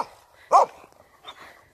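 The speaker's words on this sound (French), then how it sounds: "Ça, c'est un beau chien." A dog on a walk in the snow gives one short, loud bark followed by a softer yip, close by and with no talk.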